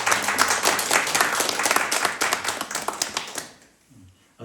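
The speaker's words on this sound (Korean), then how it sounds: "박수 한번 주시죠" Church congregation claps to welcome two new members, a brisk burst of hand applause with distinct close claps that fades out sharply after about three and a half seconds into near silence.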